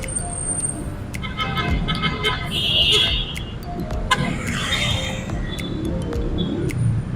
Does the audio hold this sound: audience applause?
no